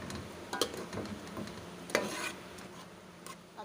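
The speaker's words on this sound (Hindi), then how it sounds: "अब हमने दही और टमाटर के साथ इसको बहुत अच्छी तरह से भून लेना है।" Keema frying in a pan with yogurt and tomato, a soft steady sizzle under a few louder stirring scrapes and taps of a spoon against the pan.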